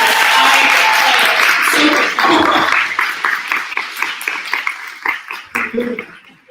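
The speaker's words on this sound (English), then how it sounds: "can we give a round of applause for one more page?" Audience applause at an author conversation event, a dense burst of clapping that starts loud and thins into scattered claps as it fades.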